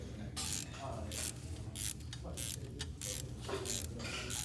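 A ratchet turns an engine crankshaft during engine disassembly, with a steady series of rhythmic clicking bursts about every half second at moderate volume.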